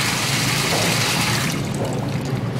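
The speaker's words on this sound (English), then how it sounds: "I'm going to add a little bit of water" Water runs steadily from a tap into a sink basin being filled for a three-bay sink setup, a continuous close rushing pour that thins out toward the end.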